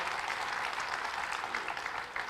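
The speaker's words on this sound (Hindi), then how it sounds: "तो चर्चिल की हिमायत में ताली बजी।" An audience at a seminar applauds, a steady close wash of clapping hands that holds evenly and fairly loud throughout, with no voices.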